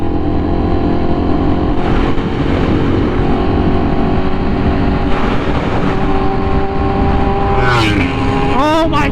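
Honda Fireblade RR-R SP motorcycle with an SC Project exhaust at speed, a loud, steady high-revving engine roar with a rising rev and whine toward the end, heard from on board with wind noise.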